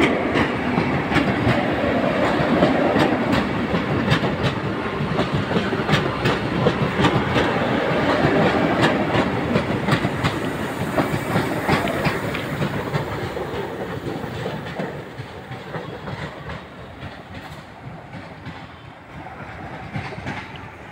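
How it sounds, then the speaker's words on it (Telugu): A Vande Bharat express train rushes past with a loud, steady roar and rapid clickety-clack of wheels over rail joints, gradually fading as it moves away. "వందే భారత్ ట్రైన్ ఇది."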